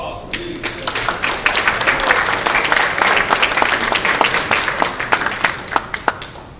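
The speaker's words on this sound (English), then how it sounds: "Can we give Donnell a huge round of applause" A crowd at a morning startup pitch event claps in a lively round of applause, with dense, fairly close clapping that holds steady and then tapers to scattered claps.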